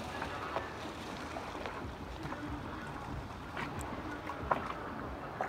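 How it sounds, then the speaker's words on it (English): A French charter boat's engine rumbles nearby under steady wind and water noise, a continuous low drone with no voices. "A rather loud French boat right next to us on charter."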